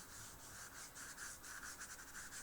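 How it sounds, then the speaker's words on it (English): Gold leaf rubbed by hand onto an art journal page, a soft, faint, continuous brushing scrape with a gentle back-and-forth rhythm. "And then I just rub it just like you would with the alcohol inks"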